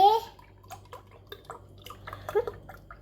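Milk is poured slowly into a container for pudding at home, making a faint, intermittent trickle with soft drips while voices speak quietly nearby.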